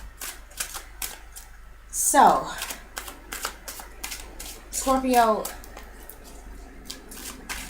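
Playing cards are riffled and shuffled in two quick bursts, crisp and close, while a person speaks softly in between.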